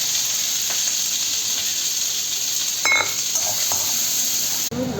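Chopped onion hits hot oil already holding a bay leaf, giving a steady, bright sizzling hiss throughout with a few clicks of a utensil near the end.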